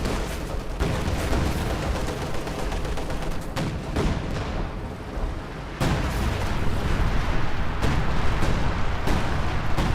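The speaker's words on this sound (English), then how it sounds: "Howitzer bombardment pushes them back a little bit" Howitzer bombardment in the strategy game Company of Heroes 2, a dense, continuous barrage of booming artillery impacts and crackling gunfire layered under battle noise, with heavier bursts near the 6-second mark.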